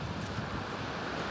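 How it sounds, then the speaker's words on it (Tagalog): Wind and strong sea waves at a beach make a steady, close roar of broadband rushing noise, buffeting the microphone throughout with no breaks. "malakas ang alon"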